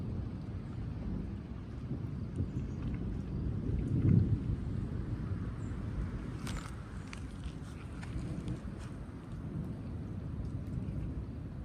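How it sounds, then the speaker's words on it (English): Heavy rain pours onto a tent during a canoe trip, a constant low roar of rainfall with a deeper rumble of thunder building around the middle and occasional sharper drips and rustles near by. "It's pouring."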